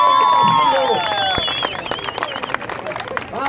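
An audience at a World Theatre Day event in Guayaquil applauds, dense clapping and crowd noise running throughout, with a loud voice and whistle-like tones riding over it early on.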